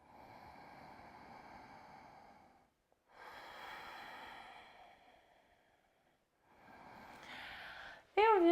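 Slow, deep nasal breathing during a vinyasa yoga core-strengthening practice, three long breaths close to the microphone separated by short pauses, ending with a brief sharp sound.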